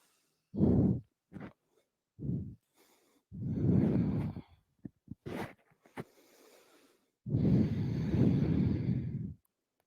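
Deep audible breaths during a vinyasa power yoga class, several long inhales and exhales separated by pauses and a few brief soft rustles, close and fairly quiet.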